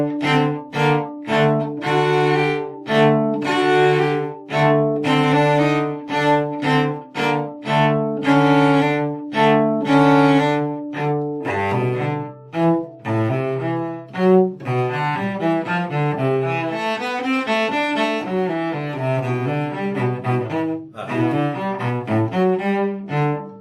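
A solo cello plays a phrase from the Gigue of Bach's Cello Suite No. 3, first in bouncy detached repeated notes, then flowing faster runs, close and clear with no talking.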